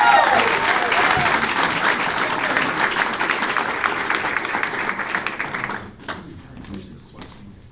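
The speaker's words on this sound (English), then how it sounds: "let's give a last round of applause to all the student presenters" Sustained audience applause for student presenters at a youth entrepreneurship competition, a dense wash of many hands that holds steady for several seconds, then thins abruptly into a few scattered claps near the end.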